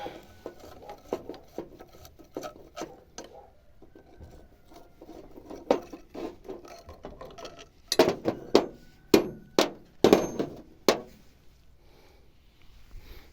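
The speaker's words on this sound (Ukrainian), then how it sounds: "Тепер трубку від турбіни відкручую." Metal tool clicks and clanks while a turbocharger pipe is unscrewed from an Opel Frontera 2.2 engine: scattered light ticks at first, then a burst of sharp, louder wrench knocks near the end, close by with no talk.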